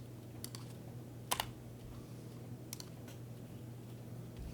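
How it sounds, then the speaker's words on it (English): Someone types with one hand on a computer keyboard, producing a few sparse, quiet key clicks with a brief double tap in the middle over a low steady hum in a quiet room. "typing with one hand sucks."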